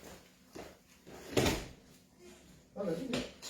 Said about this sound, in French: il y a quelqu'un qui essaie d'ouvrir la porte